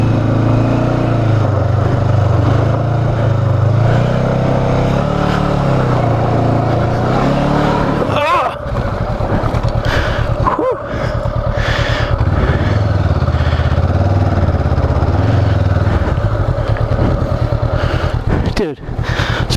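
A 2019 Honda CB500X motorcycle on Bridgestone tires rides the Cleghorn hard split dirt trails, its engine droning loud and steady with brief throttle changes and clattering bumps, close up throughout.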